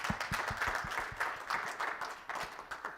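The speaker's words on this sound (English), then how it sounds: "You have a round of applause for Abe" Audience applauding a conference presenter at a Linux expo, moderately quiet and steady for a few seconds, with some low thumps and light crowd noise.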